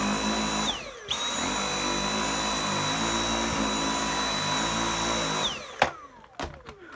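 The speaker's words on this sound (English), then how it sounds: "So you can hear the brush bar, it's certainly doing something, but the V8 sounds way more powerful." A Dyson V6 Animal cordless vacuum runs on carpet, giving a steady close whine with a high tone and a low brush-bar rumble that hold for about five seconds before it spins down, followed by a few clicks and knocks.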